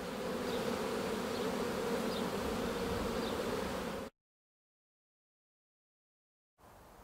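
A dense swarm of bees drones steadily and close, a thick buzzing hum that suddenly cuts to silence, then returns briefly.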